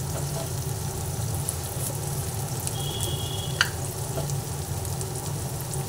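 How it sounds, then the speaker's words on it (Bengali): Sliced onions fry in a pan with turmeric and Kashmiri chili powder, giving a continuous, close sizzle with a brief scrape of stirring partway through. "পেঁয়াজ ভেজে নেওয়ার সময় এর মধ্যে এক এক করে হলুদ গুঁড়ো দিয়ে দিলাম, কাশ্মীরি লঙ্কার গুঁড়ো দিয়ে দিলাম"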